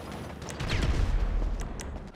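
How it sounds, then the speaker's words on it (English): An RPG rocket launcher fired in a first-person shooter video game, heard as a short rumbling blast that swells and lingers for about a second amid busy game noise. "This kid fires an RPG."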